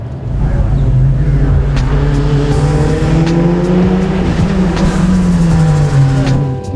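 A modified turbocharged Nissan Pulsar GTI-R hillclimb car with a bigger turbo, aftermarket computer and forged pistons roars loud and close, its engine note rising and falling steadily through gear changes.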